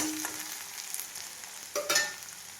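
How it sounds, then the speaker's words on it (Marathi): Chopped curry leaves sizzling in tempering oil, a soft crackling fry with a brief louder burst of spitting near the end, no talking. "हा कढीपत्ता आता फोडणीमध्ये टाकून घेतलेला आहे"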